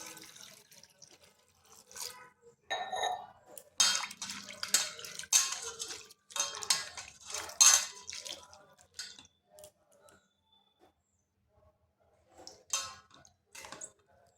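Grated raw potatoes washed in a bowl of water, heard as close splashing, swishing and dripping in irregular bursts with quiet gaps, no talking.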